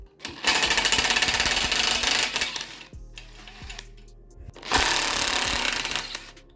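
An impact-style tool drives a 6mm hex socket to remove motorcycle handlebar bolts, two loud rattling bursts of roughly two seconds each separated by a quieter pause with light metallic clinks.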